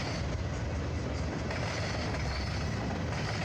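A model train locomotive running on track power on a test bench, powered by a CW80 transformer, with a steady loud rumbling motor drone and continuous mechanical rattle throughout, with no voices.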